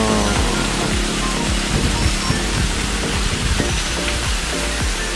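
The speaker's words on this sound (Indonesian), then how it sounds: "Ada air terjunnya nih" A steady, loud rush of a waterfall fills the scene along the Ciwidey–Cidaun route in West Java, Indonesia, with a constant broadband roar and no voices.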